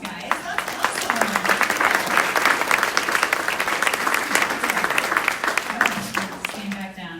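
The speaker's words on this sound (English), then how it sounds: "Give yourselves a round of applause, guys." Audience applause at a local live event in Ankeny, Iowa: a room of people clapping steadily and fairly loudly for about seven seconds, with some voices and cheering mixed into the dense clapping.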